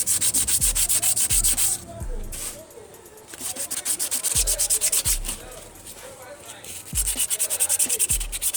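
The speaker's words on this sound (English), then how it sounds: "It's more like honing the cylinder." Soft abrasive hones the cylinder of a locked-up AC compressor, giving loud rhythmic rasping strokes in repeated bursts with short pauses between sets.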